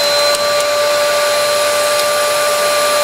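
Extraction hood fan on a sandblasting cabinet running, a loud, steady motor whine with a constant airy rush and sustained tonal hum, unbroken across the short span with no voices.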